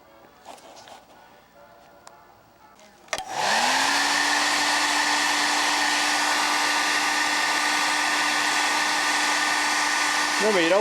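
A heat gun switches on with a sudden whoosh and then blows steadily and loudly at close range for several seconds while warming epoxy in a cold shop, after a few quiet handling noises.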